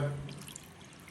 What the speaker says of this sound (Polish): Nalewamy, tak żeby było przykryte.